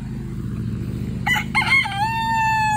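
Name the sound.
rooster crowing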